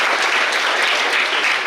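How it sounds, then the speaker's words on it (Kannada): Loud, dense applause for Ashok Manjanadi at a trust and school function, a steady wash of many hands clapping close by. "ಚಪ್ಪಾಳೆ ಬರುತ್ತೆ."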